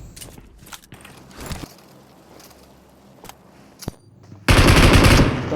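Gunfire in the PUBG video game on the Erangal map, starting with scattered single shots and a few footsteps, then breaking into a loud, sustained burst of rapid automatic fire toward the end.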